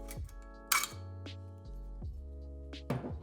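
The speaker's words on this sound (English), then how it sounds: "You can now remove the entire trigger group from the receiver." Metal parts of a Remington 870 shotgun trigger group clink and click as the group comes out of the receiver. Several sharp, close metallic taps sit over a low background hum.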